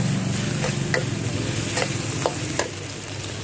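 Spicy catfish with red chilies and garlic stir-fried in a pan, a loud steady sizzle broken by several scraping stirs, close up with no talking.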